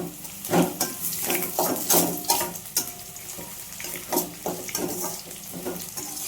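Onions and crushed garlic frying in a pan for a tempering for a Nellore-style lentil dish, with a busy sizzle and repeated spatula scrapes against the pan, close and fairly loud throughout.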